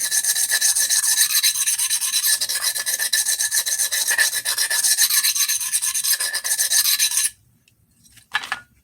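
A steel blade is drawn over a Diamond DMT DuoSharp Black extra-coarse #220 6x2-inch diamond plate, a loud continuous gritty rasp for about seven seconds, then near silence with one brief final scrape.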